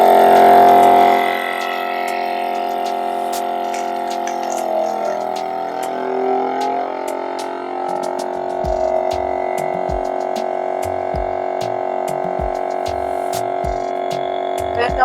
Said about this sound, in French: L'aspiration est finie et c'est en train de souder mon sac.